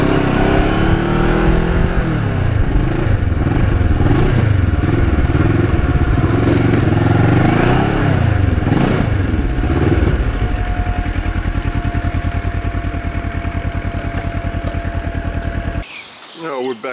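A 15-year-old black Ninja motorcycle out on a ride: loud, close engine drone with rising and falling revs over wind rush, settling into a steadier tone before cutting off abruptly near the end.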